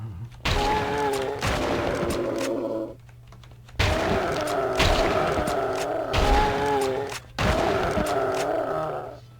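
Gunshots fire in The Mummy video game: several loud, sharp blasts come in clusters, each followed by a ringing tone and a steady hum.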